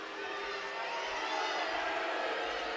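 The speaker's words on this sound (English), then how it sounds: "Crowd's getting a little excited" Basketball crowd at a varsity high school game getting excited, a dense, steady roar of many voices and cheering filling the gym without letup.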